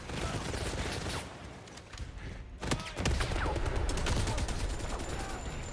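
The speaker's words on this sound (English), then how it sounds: "don't shoot up my lab" Gunfire in the 007 First Light video game, dense rapid bursts of shots that continue almost without a break, with a short lull midway before firing resumes, loud and close.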